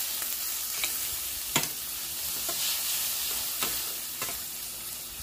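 Beaten eggs seasoned with pink salt and black pepper sizzle in a frying pan for a breakfast quesadilla. A steady hiss runs throughout, broken by several soft scrapes of a utensil stirring close by, with no talking.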